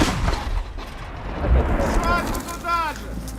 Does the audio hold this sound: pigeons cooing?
no